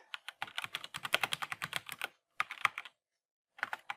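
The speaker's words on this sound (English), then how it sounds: "First we type the author of the script" Rapid clicking keystrokes on a computer keyboard, a quick burst of about a dozen taps, a pause, a short second flurry, then a few final clicks, close and fairly quiet.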